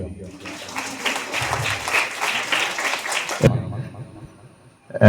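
A crowd of parents and teachers at a school PTA general body meeting claps loudly for several seconds after a police officer's greeting; voices mix in, and the applause stops abruptly near the end.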